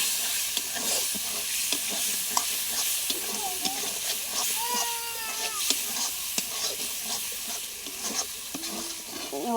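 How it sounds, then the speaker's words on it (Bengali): Fried prawns being stirred into oil-rich masala in a pan, with steady sizzling and frying under repeated scraping and clinking of a spoon against the pan, close and moderately loud. "ভেজে রাখা মাছগুলো দিয়ে দেব, দিয়ে নাড়াচাড়া করতে থাকবো।"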